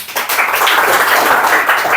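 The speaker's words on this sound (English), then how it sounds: "clap for this man." Classroom group clapping on Teacher's Day, a dense steady patter of many hands close by, continuous and fairly loud for the whole stretch with no break.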